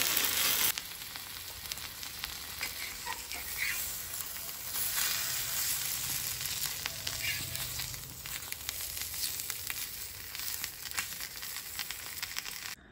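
Stuffed mackerel wrapped in banana leaf roasts in a pan with green masala paste, a soft continuous sizzle and crackle with occasional rustling as the parcel is turned, fairly quiet and without talk.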